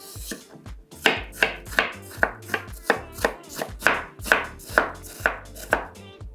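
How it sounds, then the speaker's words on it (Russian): Rhythmic knife chops on a cutting board, cutting an apple into thin strips, a steady run of about fifteen close, crisp strokes with no talking. "Яблоко для салата нарезаем соломкой."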